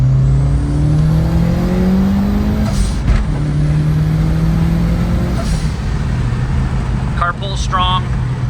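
Turbosmart blow-off valve on a 1995 Mitsubishi Eclipse GSX, heard from inside the car as brief whooshing releases between loud, rising engine revs under acceleration, with a voice briefly audible near the end.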